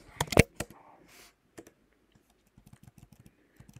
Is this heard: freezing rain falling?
no